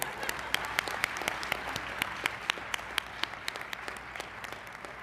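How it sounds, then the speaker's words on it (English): Audience applauding a campus radio personality at a keynote event, a steady wash of clapping with sharp individual claps standing out, moderately distant and continuous with no voices. "Okay, you may clap."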